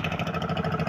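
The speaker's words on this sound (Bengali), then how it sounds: "এই যে আরেকটা ছোট ট্রলার," A small trawler boat's engine idling with a steady, throbbing mid-pitched putter, continuous and close for a brief moment.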